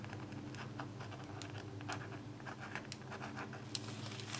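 Pen lightly outlining shapes on dry art-journal paper, a quiet continuous scratching with short strokes and pauses, close and faint over a low steady hum, no talking.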